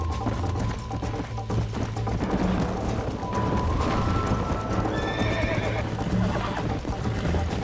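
A horse in the PC version of Red Dead Redemption neighs loudly as its hooves clip-clop steadily over ground, with a steady game soundscape underneath; the horse is running low on stamina and falls.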